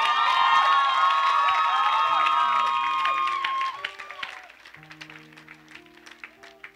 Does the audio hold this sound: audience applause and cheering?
yes